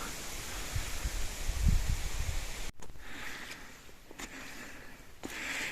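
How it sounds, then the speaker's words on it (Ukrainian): Wind gusts roar and hiss in a broad rush in the Carpathian Mountains in October, louder at first, then easing to a softer breezy whoosh with a few brief swells. "Ось такий вітер ще дує сьогодні."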